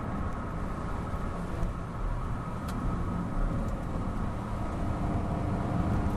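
BMW Z4 35is driving a winding mountain road in the rain, a continuous broadband rush of engine, tyre hiss on wet tarmac and wind, steady and fairly loud throughout with no speech.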